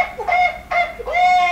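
A man squawks and honks loudly in imitation of a chicken, three harsh nasal bursts in quick succession, close and unaccompanied by other sound.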